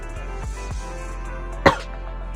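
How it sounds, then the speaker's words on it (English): A single loud, sharp cough rings out in a Zenless Zone Zero gameplay scene, a sudden burst over a steady low hum and faint background tones. "That cough was really loud."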